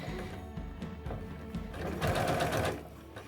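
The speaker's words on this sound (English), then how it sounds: "so that it's sewing nice and straight and even, and an even distance from the edge" A sewing machine stitches a fabric facing piece along an edge with a rapid, steady mechanical whir and needle chatter, running continuously and close by.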